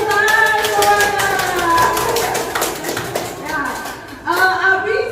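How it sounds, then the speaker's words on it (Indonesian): A group claps hands at a positive-discipline school workshop session, quick rhythmic claps mixed with children's and adults' voices talking over them. "Tepuk tangan semuanya"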